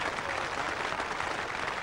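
Cricket crowd at a 1977 England versus Australia test match applauding the bowler, a brief burst of steady, distant clapping from a large ground.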